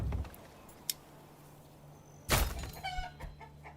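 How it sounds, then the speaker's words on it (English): Chickens in the Manor Lords video game give a few soft clucks and squawks, quiet and intermittent over faint background ambience, with a brief louder burst partway through. "Let's add those chickens, y'all."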